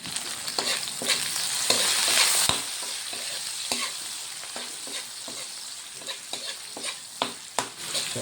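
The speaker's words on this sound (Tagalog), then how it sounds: "hahaluin natin" A utensil stirs sizzling food in a frying pan while cooking misua with pechay and egg; steady frying hiss with repeated scraping clicks and taps of the spatula against the pan, fading somewhat toward the end.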